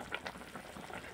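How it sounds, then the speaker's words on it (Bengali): Potato and fish curry broth boils in a pot in a home kitchen, giving a brief, faint, close-up patter of bubbling liquid with no voices. "ঝোলটা দেখুন ফুটে উঠেছে বন্ধুরা"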